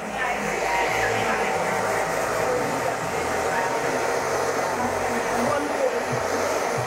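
A hair dryer blows loud and steady at close range while a man's hair is dried during a barbershop haircut, a continuous airy roar that stays unchanged throughout.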